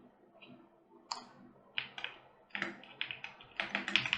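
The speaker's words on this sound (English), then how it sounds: "let me type out" Computer keyboard typing while working on a Lego figure 3D model, a close run of irregular clicking keystrokes that speed up into quick bursts toward the end, with no talk.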